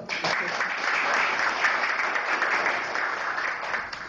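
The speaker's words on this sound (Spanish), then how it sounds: "Un aplauso para ese hombre." An audience at a literary workshop applauds a guest: brisk, continuous clapping from a room full of people, even and moderately loud for about four seconds.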